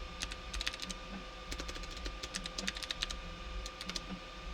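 Fingers typing on a computer keyboard, quick bursts of crisp key clicks separated by short pauses, close but fairly quiet over a faint steady hum, no voices.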